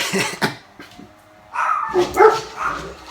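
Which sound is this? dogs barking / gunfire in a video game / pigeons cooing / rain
dogs barking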